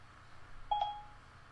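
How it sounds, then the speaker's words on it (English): A short electronic beep from an iOS device as Siri activates, a soft two-tone chime heard once in a quiet room. "it was waiting for me to say something, and so that's why it did the beeping"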